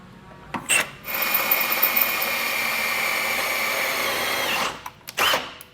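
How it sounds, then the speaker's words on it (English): A power drill bores holes through the metal frame while mounting a Blue Ox base plate on a 2011 Jeep Patriot. The steady, loud whine runs for several seconds, with short bursts just before and after. "So now that we've got it drilled"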